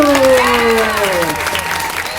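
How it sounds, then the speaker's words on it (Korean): Children from a church youth department applaud at a year-end service, a loud burst of clapping mixed with sliding, sung or called-out voices that fades gradually over two seconds. "모두 함께 박수를 보내도록 하겠습니다. 박수!"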